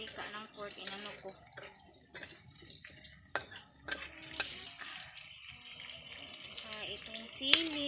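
Pork fat frying in a pan to render out its oil, giving a low, steady sizzle with occasional pops and spatters, while a person talks over it.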